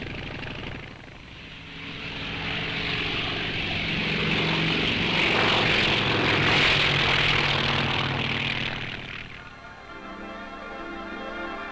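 A North American T-28 propeller trainer airplane drones overhead, its engine swelling louder as it passes close, then fading away.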